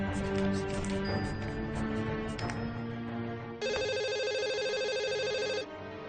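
A telephone ringtone plays in a quiet room, a steady tonal ring that stops and then returns as a brighter, louder electronic burst lasting about two seconds before cutting off, no talk over it.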